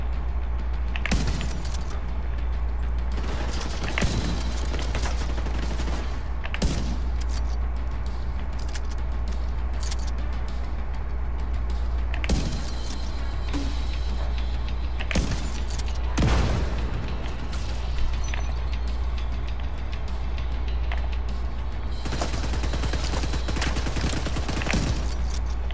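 Sustained gunfire and grenade-launcher blasts in a firefight at the Museum of American History in The Division 2, with repeated sharp bursts and booms over a constant low rumble.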